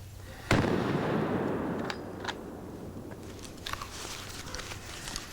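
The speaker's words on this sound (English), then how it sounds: "you can hear the neighbors shooting" A wild boar hunt in Sibiu, Romania, with one sharp crack like a gunshot followed by a long decaying rumble, then scattered faint crackles and pops across a quiet outdoor background, no talking.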